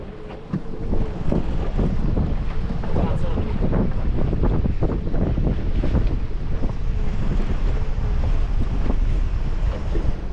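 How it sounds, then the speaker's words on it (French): Strong wind gusts roar steadily across a boat on Lake Memphrémagog during freshwater salmon fishing, a loud continuous buffeting against the microphone with water slapping beneath and faint voices in the background. "Il y a du vent en tabarouette, j'ai jamais vu ça."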